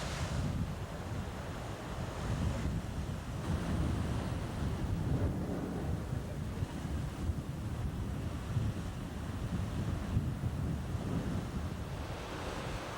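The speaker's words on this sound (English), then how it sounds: "When the tides come in, the water pushes through the tunnels and is forced up through openings called blowholes" Ocean surf surges through lava rock tunnels and blowholes on the Galapagos coast, a continuous rushing wash of water with gentle swells, mixed with wind buffeting the microphone, steady and moderately distant.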